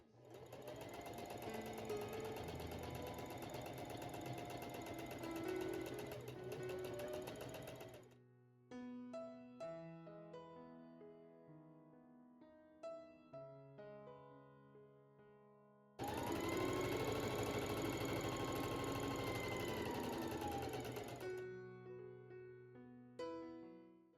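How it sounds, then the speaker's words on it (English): Home sewing machine stitching quilt fabric along a marked line for a heart blanket, running in two steady bursts of about eight seconds each with quieter music-like gaps between them. "you're going to want to sew right on that line."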